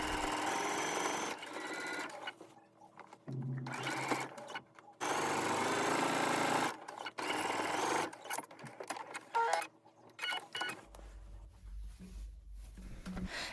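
A sewing machine stitches down bag handles in rapid mechanical bursts that start and stop several times, with short pauses and faint handling sounds between runs, close to the microphone.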